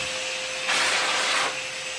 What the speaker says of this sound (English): If you wish to use it as a blower, you can just plug in to that side of it.